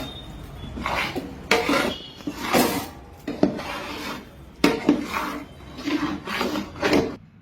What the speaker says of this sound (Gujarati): ખાંડની સાસણી શેકેલા લોટમાં નાખી અને હવે મિક્સ કરી દેવાનું બરાબર.